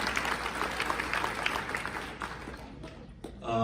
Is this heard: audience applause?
yes